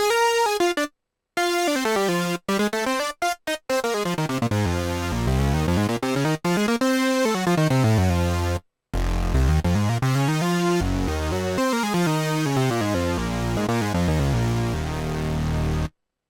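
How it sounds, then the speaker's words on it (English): A bright, buzzy saw-wave lead from Logic Pro 11's Modern Wave synth plays a sweeping melody with gliding pitch, cutting out abruptly in a few short silent gaps. "My favorite lead sound in this pack is Gritty Saw."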